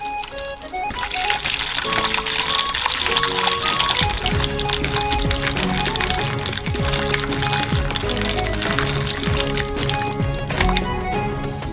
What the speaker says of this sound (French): nous versons de l'eau chaude sur la plaque du bas